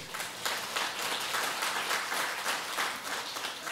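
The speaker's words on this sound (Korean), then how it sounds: "자, 박수 한번 해주세요" A church congregation claps together in a steady burst of applause, many hands close by, lasting a few seconds.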